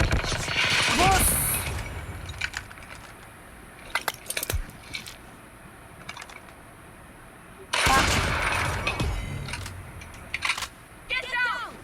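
Bursts of rapid gunfire from a multiplayer shooter game crackle in two loud clusters, separated by scattered single shots and clicks, with voices talking over the action.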